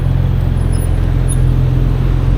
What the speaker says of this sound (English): Oh, it's a McLaren.